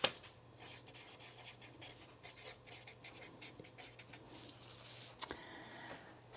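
A pen scratches across paper while a letter to Santa is handwritten at home, quiet, close, irregular strokes and short pauses, no voices.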